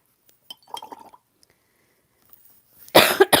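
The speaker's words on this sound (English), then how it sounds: "coughing at you." A person at home painting coughs sharply a few times near the end, loud and close, after some faint clinks and light handling sounds in a quiet room.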